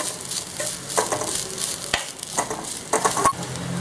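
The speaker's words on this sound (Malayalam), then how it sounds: "തേങ്ങ ഇതിലേക്ക് ഇട്ട് കൊടുക്കാം. ഒന്ന് ഇളക്കി കൊടുക്കണം." Grated coconut sizzling in hot coconut oil in a pan while a spatula stirs and scrapes it, a steady fry with sharp scraping strokes and a few clanks, no talk.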